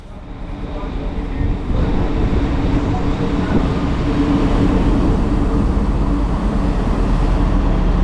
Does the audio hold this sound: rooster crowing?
no